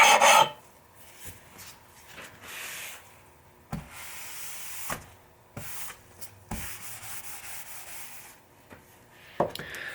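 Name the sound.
polishing stone rubbed on a bench vise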